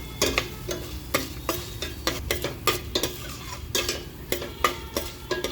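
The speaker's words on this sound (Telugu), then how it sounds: "పోపు మాడకుండా వేయించుకోవాలండి" Chana dal, urad dal, mustard seeds and cashews fry in oil as a tempering for mixed vegetable upma, with a soft continuous sizzle punctuated by rhythmic clacks of a spoon stirring in the pan.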